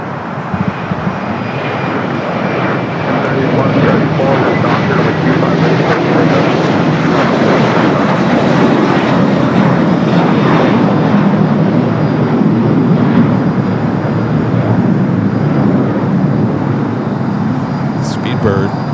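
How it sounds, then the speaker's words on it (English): Jet airliners roll and push back on the ramp at LAX, including a Copa Airlines 737 MAX 9, producing a steady, loud engine roar that holds throughout with continuous broadband airport noise. "Copa Airlines 737 MAX 9 pushing back."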